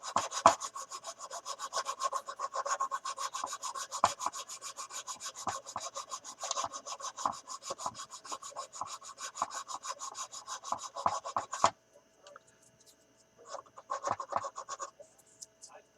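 Rapid, close scratchy rasping of a sanding stick working the seams of a 1/72 Airfix Short Sunderland plastic model kit, a steady stroke rhythm that stops abruptly, followed by a few lighter scrapes.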